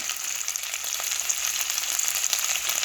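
Beef, treated with a baking soda tenderizer, sears on the bottom of a pot for a beef stew, giving a steady, dense, close sizzle and crackle with no talking.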